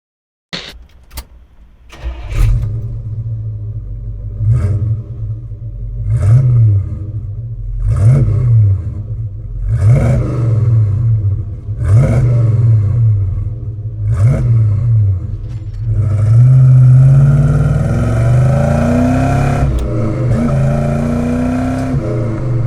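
A GM A-body car fitted with a Pypes exhaust starts, then revs repeatedly in a steady series of loud, deep blips before settling into a sustained, throaty higher rev, close and alone.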